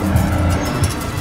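A Mexico-only Ford truck rolling along on the road, a steady, loud, close rumble of engine and tires with a slight whoosh throughout.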